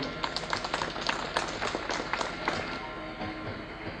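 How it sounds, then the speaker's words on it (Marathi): A crowd at a groundbreaking ceremony for a minor irrigation dam project in Kankavli, Sindhudurg, claps in a dense patter of hand claps, fairly close, fading somewhat toward the end. "सर्वांनी जोरात टाळ्या वाजवून"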